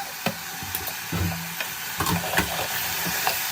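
Ginger garlic paste fries in a pan with a low sizzle, broken by several spoon scrapes and knocks against the pan over a few seconds, close by.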